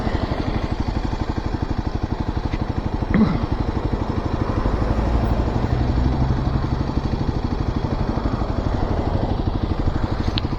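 Kawasaki KLX 300 dirt bike on knobby tires, its single-cylinder engine thrumming loud and steady close by for the whole stretch with a brief rise midway, no talk over it.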